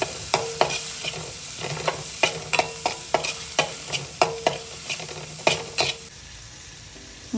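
Fish iguru masala being stirred in a pan with turmeric and chili, a spoon scraping in about a dozen sharp, evenly spaced strokes over a steady sizzle of frying, then quieter simmering near the end.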